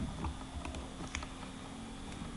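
Keys tapped on a computer keyboard for a copy-and-paste shortcut, a few soft clicks over a steady hum of background noise, faint and close.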